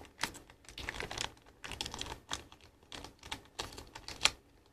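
A Pokémon Wild Blaze first edition booster pack is torn open by hand, giving a series of crinkly, papery rustles and crackles close up, in uneven bursts with brief pauses between them.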